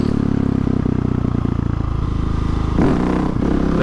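A Husqvarna 701 Supermoto's single-cylinder engine pulls hard through the gears during wheelies, a loud, close, pulsing drone that rises in pitch and then shifts and revs again.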